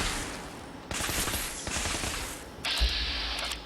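Gunfire in Fallout 4 arrives in several loud, close bursts of rapid shots separated by brief lulls, with a sharper mechanical burst near the end.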